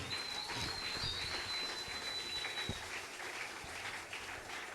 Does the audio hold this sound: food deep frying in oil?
no